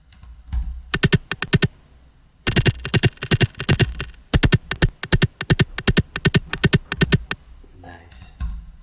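Short chopped percussive transient samples for a layered psytrance bass, played one after another as crisp clicky hits in quick bursts and separated by brief gaps, loud and close with no talking.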